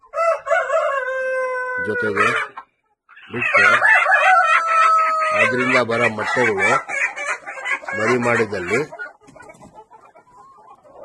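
Nicobari native roosters crow loudly in long drawn calls up close, mixed with clucking, while someone talks over the birds through much of the stretch.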